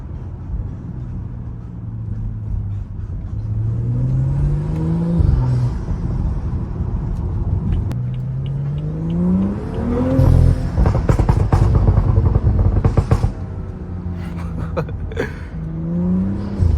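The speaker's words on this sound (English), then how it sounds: "It pops so much more when I redline it" A BMW F30 car engine revs up and down repeatedly toward redline, loud and close, with crackling exhaust pops and burbles as the revs climb and drop.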